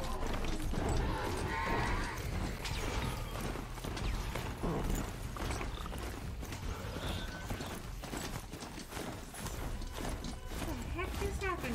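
A mount horse in the video game Horizon Zero Dawn gallops with steady clip-clop hoofbeats and mechanical clanks under game ambience, while a player talks over it throughout.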